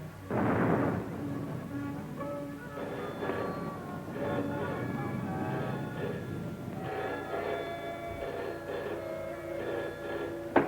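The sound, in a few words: artillery guns firing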